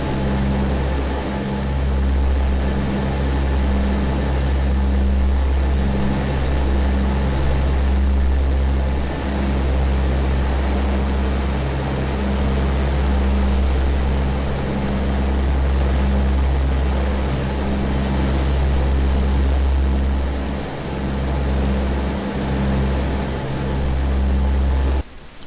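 Propeller airplane engine in a flight simulator, flying near Spokane, droning as a steady low hum with a faint pulsing throb that runs unbroken for about twenty-five seconds with no speech.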